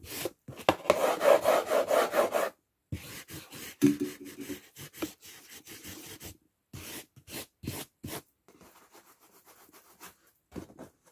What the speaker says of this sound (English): Now this is bamboo. Bamboo sounds like this.